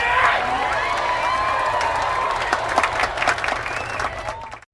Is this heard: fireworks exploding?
no